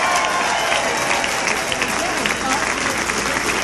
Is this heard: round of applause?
yes